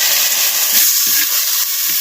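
Dried turkey berries (sundakkai) fry in hot oil for a Chettinad vatha kuzhambu, giving a steady, close sizzling hiss with a few soft stirring bumps underneath and no talking.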